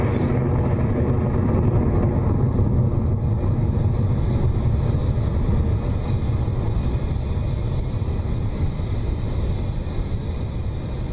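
A SpaceX Falcon 9 rocket lifts off from its launch pad, a loud, continuous deep roar with rough crackling texture that holds steady for the whole stretch, no voices over it.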